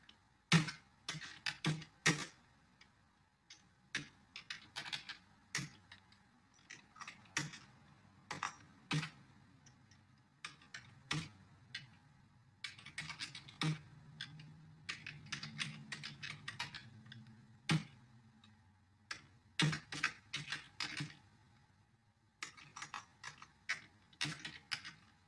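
Code is typed on a computer keyboard to write a bean tag in a Spring XML configuration file: close, clicky keystrokes in quick bursts separated by short pauses, with no talking.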